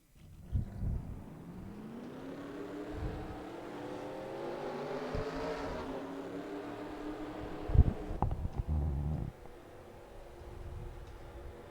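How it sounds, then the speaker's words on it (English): Race car engines rev together at the rolling start of a NASCAR Racing 2003 video game event at Talladega, a steady rising multi-car drone with layered harmonic whine that swells as the field pulls away, then a louder burst near the end. "all the cars starting to rev their engines and starting to pull away"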